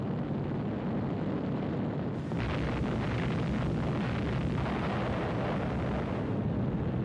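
A continuous heavy, rumbling roar of deep booming depth charge explosions at sea, with a louder surge of bursts partway through, dense and sustained without pause.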